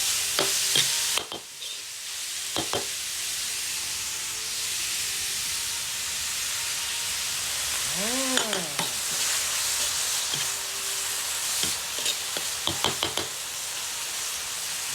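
Minced pork dry-fried for northern Thai khua larb sizzles steadily with a continuous bright hiss, broken by sharp knocks and scrapes of a utensil stirring against the pan, plus a brief tonal clatter midway.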